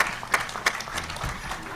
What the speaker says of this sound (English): May we give a better round of applause to our chairman, the president-elect